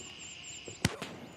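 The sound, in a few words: gunshots in Gray Zone Warfare video game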